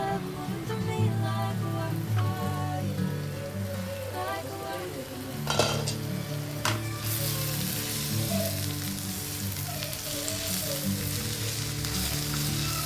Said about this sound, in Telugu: ఆనియన్ ఉడికిపోయింది, ఇంకా మంచిగా ఫ్రై అవ్వాలి.